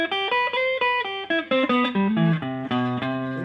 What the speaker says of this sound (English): So we're going to play a major 7th arpeggio